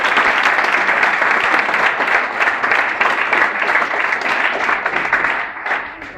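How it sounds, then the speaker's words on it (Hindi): Audience applause breaks out for a motivational speaker, a dense, loud wash of many hands clapping that holds steady and then fades slightly toward the end. "जबरदस्त तालियां बजी"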